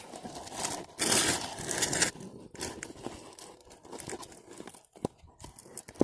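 A glued seat cover being peeled off an XR650L motorcycle seat: a loud, close tearing rip near the start, followed by quieter crinkling, scraping and intermittent pulls of material.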